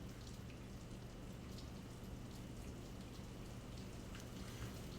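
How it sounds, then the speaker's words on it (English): Rain in modded Minecraft falls as a steady, soft hiss of drops across the whole stretch, even and fairly faint, with no voices. "Oh, now it's raining."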